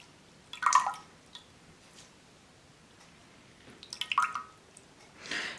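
Broccoli sprouts are swished and rinsed in water, giving two brief bursts of wet sloshing and dripping with faint trickles between, close and quiet.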